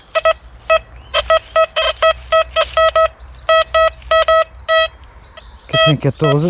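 Rapid bursts of a high electronic beeping tone from a Deus 2 metal detector in a forest repeat in an irregular rhythm, loud and close, with a voice speaking briefly near the end.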